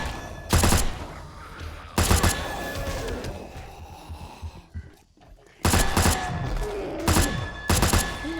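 Four loud, sharp bursts of gunfire from a weapon in the zombie survival game 7 Days to Die, spaced irregularly over several seconds, with quieter ambient rumble and faint movement between shots.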